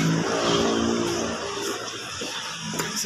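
A Mitsubishi Pajero V6 engine, opened up for throttle body cleaning and a tune-up, revs up and settles again. Close and moderately loud, with no talking.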